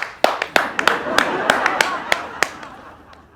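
A small group claps by hand, with about a dozen sharp, uneven claps over a few seconds. The claps stand out close and crisp over a light background murmur.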